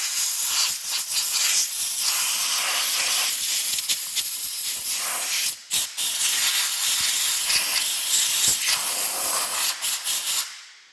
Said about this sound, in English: I'm gonna get the blower out and blow it off